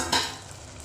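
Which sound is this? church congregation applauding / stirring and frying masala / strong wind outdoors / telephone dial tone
stirring and frying masala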